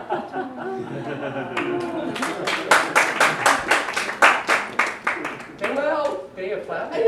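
An audience claps enthusiastically after a live song, a burst of dense applause mixed with laughter and chatter, with voices talking before and after.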